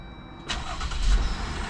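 A 2018 Jeep Wrangler engine starts after a battery replacement, a quick crank that catches and settles into a close, steady idle rumble.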